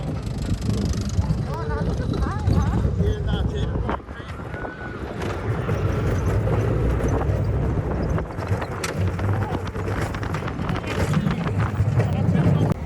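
Ride on a jerky roller coaster at Six Flags Great Adventure at night, a loud continuous wind rush and rattling rumble throughout, with a brief dip around the midpoint and people talking over it.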